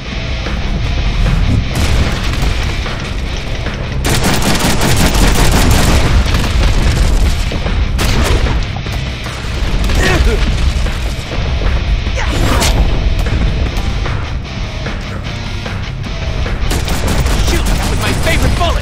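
Rapid gunfire and booming blasts from the Deadpool video game fill the scene, with dense bursts of shots and explosions layered over game music, loud and continuous with brief quieter gaps.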